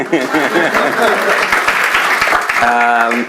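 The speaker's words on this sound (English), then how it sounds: "You could clap your hands for her." Audience applause for a panelist at a 2019 Zionist conference, with broadband clapping running throughout and a voice talking over it, then a sustained tone or singing near the end.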